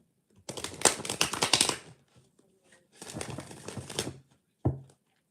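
A tarot deck is shuffled in two long riffling bursts of rapid card flicks, close and crisp, with a short gap between, followed by a single soft tap and no talking.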